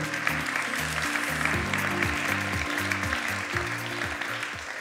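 Audience applause at an award ceremony during a congress, steady clapping from a hall crowd that holds throughout, blended with a low, stepping musical backing underneath.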